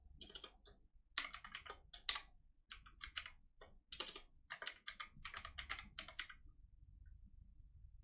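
Typing on a computer keyboard while a file is named for a 3D model export: quick bursts of close, crisp key clicks with brief pauses, alone and fairly quiet, tapering off near the end.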